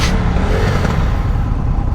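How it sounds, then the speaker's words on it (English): A 2023 Indian FTR R Carbon motorcycle engine roars loud and close, held at high revs near redline in a dense, steady blast. "I just want to like rev it up to redline and just let it come down in"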